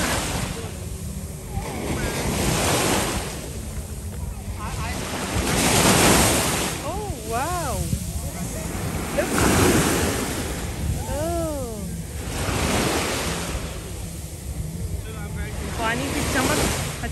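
Ocean waves roll in at Kite Beach in Dubai, surging and receding in a steady rhythm under strong wind buffeting the microphone, with faint distant voices in between.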